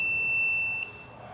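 A 48V battery monitor gives a shrill electronic beep that holds steady for most of a second and then cuts off, leaving a faint hum behind.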